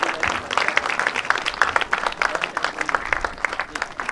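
A conference audience at the 2021 Peer Alpa Conference breaks into dense, sustained applause, many hands clapping close and loud in a steady roar with no pauses.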